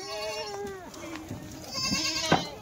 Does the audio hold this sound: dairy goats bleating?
yes